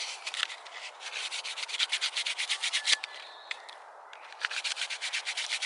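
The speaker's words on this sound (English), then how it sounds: "I can get it a little bit more smoother when I use the finer emery cloth" Finer emery cloth rubs back and forth over a hand-carved wooden spoon in quick, rhythmic, close-up strokes, pausing briefly midway before the brisk rasping resumes.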